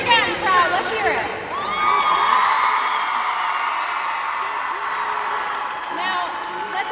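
A large crowd cheers, whoops and applauds for the Weslaco Lady Panthers softball team at an evening celebration, a loud sustained roar that stays high throughout while an announcer's voice carries over it.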